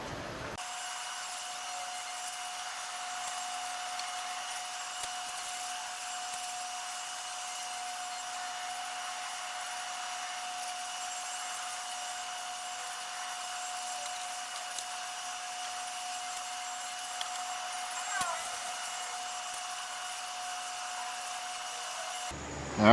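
A 3D printer with an automatic part-ejection system runs in a heated chamber, giving a steady, quiet mechanical hum with faint whining tones and occasional small clicks, with no voices.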